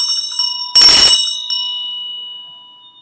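A single bell is struck once, ringing loud and bright, then fading in a long, clear decay.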